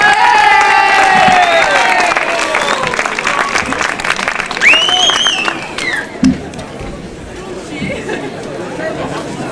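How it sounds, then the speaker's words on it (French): A crowd at a Corsican national festival in Corte applauds and cheers a performer, loud clapping with whistles and shouts that gradually thins out, leaving scattered chatter and a few voices. "Je vais vous demander d'applaudir Lolo, ou plutôt Olivier"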